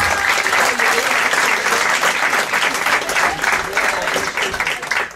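Steady, loud audience applause fills the whole stretch, dense clapping from a crowd at a live French radio event without a break.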